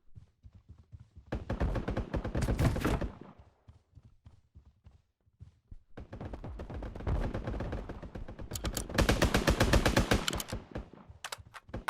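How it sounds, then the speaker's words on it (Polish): Rapid video-game gunfire from shooting practice in a Mini Royale battle royale match, fired in two long bursts of quick, close cracks with a pause between them and no talk over them. "tutaj widzę, że można potrenować sobie strzały"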